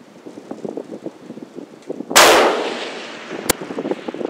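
A single sharp, loud 7mm PRC rifle shot from a 20-inch gun aimed at a 1,000-yard target, its blast decaying over a second, followed by a short crack, with someone talking softly before and after.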